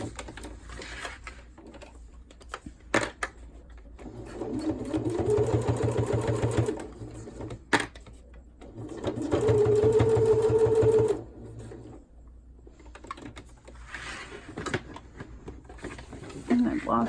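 Sewing machine top-stitching a cloth diaper, in several loud rapid whirring bursts of a few seconds each, separated by pauses with handling clicks and someone talking.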